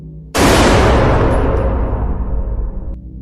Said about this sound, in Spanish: Fort Brody se quedó petrificado al escuchar el disparo y la voz que lo llamaba.